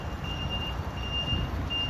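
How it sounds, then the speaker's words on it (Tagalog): A dump truck hauling soil at a work site in Qatar sounds steady, evenly spaced reversing beeps over a low, continuous engine rumble as it pulls away, with no talking. "Paalis na yung isang dump truck."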